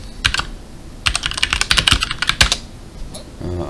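Fingers type a login on a computer keyboard while connecting to a server over SSH. Close, crisp key clicks come in short bursts, with a quick flurry in the middle and brief pauses, and no speech.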